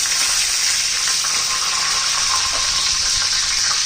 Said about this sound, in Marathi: कढीपत्ता पण घालायचा.